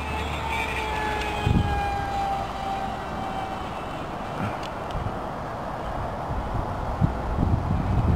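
A Cyclone F5D RC pylon racer airplane flies a fast pass outdoors in wind, its high-pitched whine sliding downward in pitch as it passes, heard at a distance over steady wind noise.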